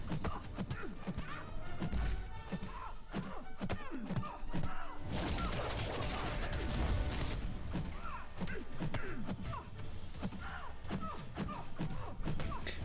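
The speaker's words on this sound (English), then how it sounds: "let's fire off the special one" Heavy punches and crashing impacts from Luke Cage's special attack in the fighting game Marvel Contest of Champions, a dense run of thuds and smashes with a louder crashing stretch in the middle, continuous and close.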